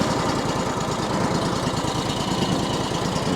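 Sawmill engine running steadily before a test cut on a cedar log, a close, continuous rough mechanical drone with a rapid pulsing beat.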